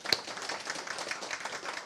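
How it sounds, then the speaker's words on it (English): Audience applause at a maritime art talk in a yacht club, a dense even patter of many hands that stays fairly quiet and steady throughout, with one sharper clap near the start. "And so one John Harrington deserves our applause."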